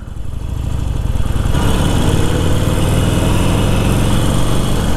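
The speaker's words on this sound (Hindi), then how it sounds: "और this is basically A 1200 CC motorcycle" A Harley-Davidson 1200 Custom motorcycle with a 1200 cc engine idles close by, a loud, thumping low rumble that swells slightly after the first second and then holds steady.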